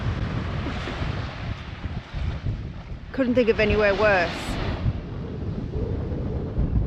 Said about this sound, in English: So the wind's fairly blowing